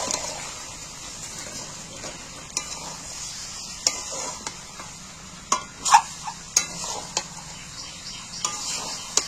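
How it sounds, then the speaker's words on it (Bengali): Chicken pieces are stir-fried with spice paste and green chilies in a pan, a steady soft sizzle under scattered sharp scrapes and clacks of a spoon stirring against the metal, close by and with no talking. "এইবার মশলাটাকে ভালো করে মাংসের সাথে কষিয়ে নেব"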